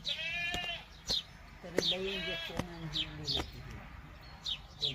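Several goats bleat repeatedly in short, wavering cries, with birds chirping and faint voices in the background.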